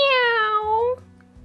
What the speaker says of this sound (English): It was a black and white cat.